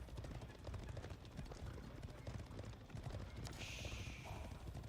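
Horse archers' hooves clatter in a real-time strategy game, a continuous rapid clip-clop mixed with busy battle ambience, and a brief tonal in-game chime near the end.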